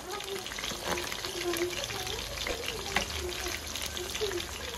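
Chicken legs for beer fried chicken drop into hot oil and sizzle steadily with a bubbling crackle, while a voice talks over the cooking.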